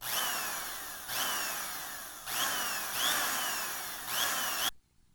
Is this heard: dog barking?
no